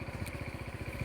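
A farm tractor idles close by with a rapid, even low chugging pulse and a faint metallic clatter on top, steady throughout the short moment.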